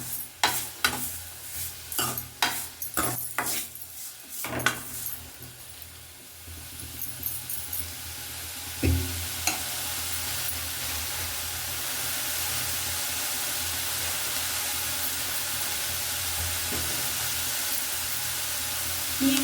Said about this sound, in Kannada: ಒಣಗಿರೋ ಕರ್ಬೇವಿನ ಸೊಪ್ಪನ್ನು ಹಾಕ್ಕೊಳ್ತಾ ಇದ್ದೀನಿ.